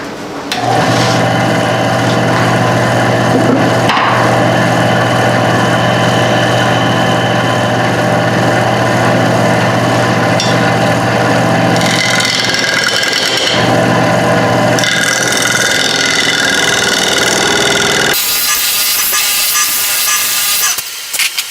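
A scraper works hardened blue sand filler off a mesquite bowl spinning on a wood lathe. The motor hums loud and steady, and rough scraping noise surges and shifts on top of it for about twenty seconds.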